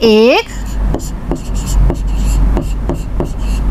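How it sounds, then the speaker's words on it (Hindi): Marker or chalk writing numbers on a classroom board during a primary maths lesson, heard as a series of short, regular strokes and taps under steady low background hum, with a brief voice at the start. "तो हम इसे लिखेंगे"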